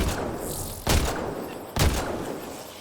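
Gunfire in the video game Mass Effect Andromeda, a loud steady blast of shooting broken by two heavy distinct shots, with no talking.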